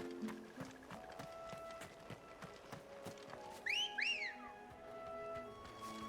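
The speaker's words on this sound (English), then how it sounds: "Not gonna get over that whistle." A bright two-note whistle rings out twice in the Final Fantasy 16 video game, standing above a steady bed of game sound effects and a low music drone, fairly close and clear.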